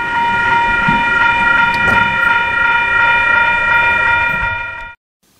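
A train pulling away from Wondabyne station, a remote platform with no road access, sounds a long, loud, steady horn chord over rumbling wheels, then cuts off abruptly near the end.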